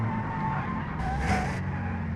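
A delivery van brakes hard, its tires squealing and skidding briefly over a steady engine drone, a short loud screech in the middle of the clip with no voices.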